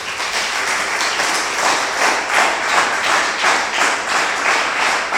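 Church congregation applauding together in a steady, loud burst of clapping that fills the room, sustained and even throughout with no talking over it.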